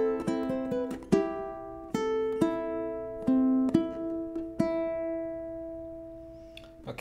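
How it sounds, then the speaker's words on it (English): A solo ukulele picks out the next four bars of a theme from Harry Potter, playing clear plucked notes in a slow, lilting melody that ring and decay between plucks, close and alone. "let's look at the next four bars. So it sounds like this."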